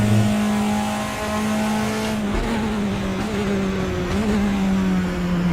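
A BINCAR race car in the RaceRoom sim at Portimao accelerates hard, its loud engine drone climbing steadily in pitch, dipping briefly between gears, then pulling on again.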